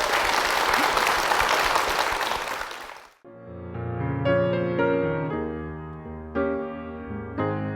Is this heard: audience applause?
yes